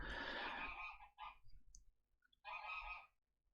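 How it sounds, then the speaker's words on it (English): A goose honks loudly several times in short, harsh bursts with a gap in the middle, fairly close in an otherwise quiet outdoor setting. "And that's my goose if you hear him"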